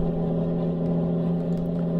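A Scania R truck engine in Euro Truck Simulator 2 drones at a steady, even pitch, a constant low hum with no change in revs over the short stretch.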